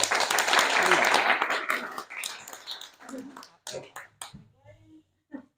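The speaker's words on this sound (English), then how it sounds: "We have to clap for that first" Audience clapping at a maritime center speaker series, a burst of applause loudest at the start and thinning into scattered claps over about two seconds, with voices and a few stray claps continuing afterward.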